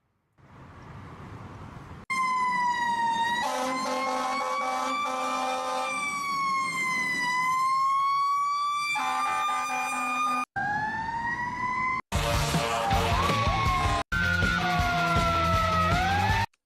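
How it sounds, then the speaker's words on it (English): Recording of a US fire truck siren playing loud and continuous, a rising-and-falling wail that shifts into faster yelping and piercing sweeps, with brief cuts between segments. "let's see if I can get a US fire truck to kind of give you the sound of it."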